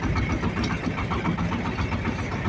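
A Shifeng tractor engine idles close by, a loud, steady low chugging with an even rapid pulse throughout.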